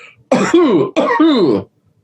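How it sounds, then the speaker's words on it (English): Two deliberate, harsh coughs in quick succession, close and loud, each with a rough, squeezing, rasping quality, then silence. "cough like a sponge,"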